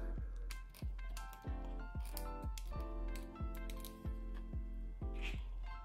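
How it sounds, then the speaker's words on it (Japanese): Scissors trimming hair during a home self-cut of the bangs, using a fringe self-cutting guide: a steady series of about a dozen short, crisp snips in a regular rhythm, close and clear over a faint background hum. "ハサミで切りながらやっていってください。"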